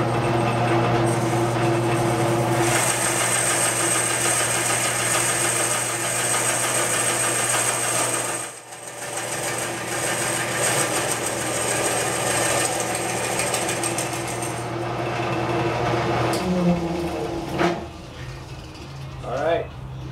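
A lathe turns a wooden Wing Chun dummy down to diameter, a steady mechanical hum and rumble of the spinning workpiece and cutting, dipping briefly midway, with a voice talking over it.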